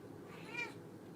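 A single drawn-out meow from a big house cat, rising and falling over about half a second against a low steady background hum, fairly soft and with no talking.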